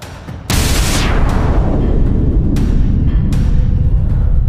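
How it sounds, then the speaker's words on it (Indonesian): A big explosion set off by a punch landing on a bandit leader's body: a sudden loud blast about half a second in, followed by a sustained, rumbling roar that fills the rest of the clip, with no voices. "menghasilkan sebuah ledakan besar"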